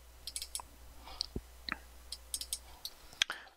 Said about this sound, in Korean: 여기 클릭, 여기 클릭, 여기 클릭